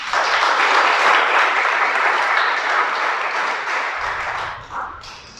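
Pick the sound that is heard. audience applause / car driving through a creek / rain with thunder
audience applause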